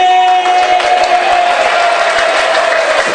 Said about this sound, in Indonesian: mari kita tepuk tangan yang meriah